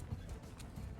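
Hoofbeats of a horse galloping in Mount & Blade 2: Bannerlord, a quick rhythmic clip-clop, faint and distant under low background noise.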